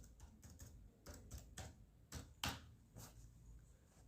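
A computer keyboard types a MySQL command in a steady run of close key taps, with a couple of heavier strokes near the middle, no talking.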